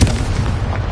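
Confringo blasting spell cast in the video game Hogwarts Legacy: a loud, dense, sustained rumbling burst heavy in the low end, lasting under a second.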